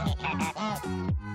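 A farm goose honks loudly and close, in a quick run of several nasal calls with brief gaps between them.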